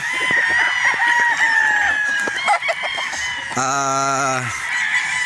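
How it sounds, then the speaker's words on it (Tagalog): Game chickens cluck and squawk nearby while a rooster lets out a loud, drawn-out crow, a busy cluster of farmyard birds on a game fowl farm in Batangas, Philippines. "Yung kabuuang manok dito ni Boss Martin Esquilin na kasya sa kanyang farm ay 500 plus mga boss"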